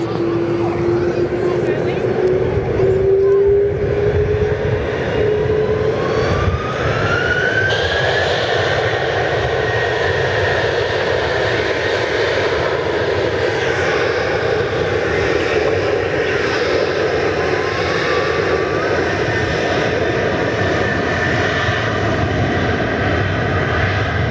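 A Qantas jet airliner takes off at Perth Airport, its engines roaring loud and continuous with a rising whine as it accelerates down the runway, heard at a distance from outdoors.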